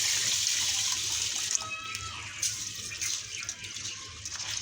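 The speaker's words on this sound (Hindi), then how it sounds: "पानी डाल लेना है।" Tap water runs steadily into a pot of sella rice for soaking, a continuous close hiss and splash with small gurgles and no talking.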